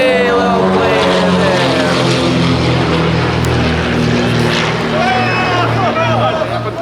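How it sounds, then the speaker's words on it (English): A small propeller airplane landing at Maho Bay, St Martin, drones close and loud with a steady buzzing engine tone held throughout, with excited voices nearby. "Little plane"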